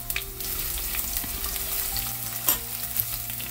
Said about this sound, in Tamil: மிகுதி இடித்த உள்ளியை இந்த கருவேப்பிலையோடு போட்டு ஒருக்கா நல்லா வதக்கி விட போகிறேன்